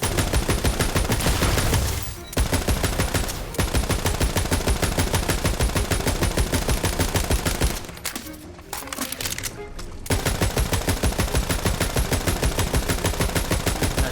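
Automatic gunfire in the looter-shooter video game Tiny Tina's Wonderlands, loud sustained rapid bursts with two short pauses.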